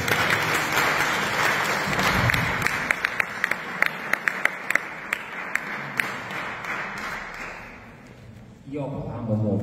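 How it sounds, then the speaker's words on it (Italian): An audience applauding at a live Italian stage event, steady close clapping from a crowd that gradually thins and fades out, with a voice starting to speak at the end. "Il grande applauso."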